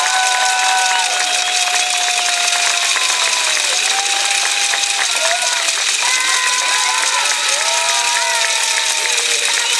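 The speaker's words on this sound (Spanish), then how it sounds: "se merecen ese fuerte aplauso. Muchísimas gracias y fuerte aplauso." A large crowd gives a loud, sustained round of applause for the instructors at a women's Zumba event, with cheers and whoops rising over the steady clapping throughout.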